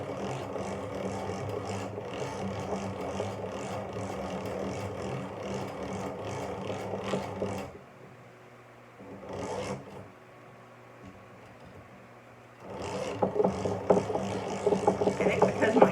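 A Mosbros electric yarn winder labours slowly through a full pound of yarn with a loose bolt, producing a steady low whirring rasp that drops away midway, returns briefly, then resumes loudly, close up with no talking.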